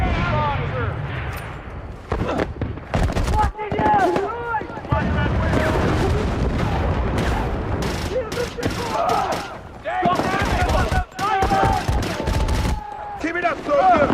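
Heavy gunfire crackles through a Battlefield: Bad Company firefight: dense bursts and single loud shots, some booming, repeat across the whole stretch, with shouted soldier voices mixed in.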